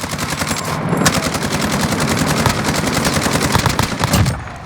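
Sustained rapid automatic gunfire fired from a car in a Korean online shooter game, loud and continuous bursts lasting the whole stretch before cutting off near the end.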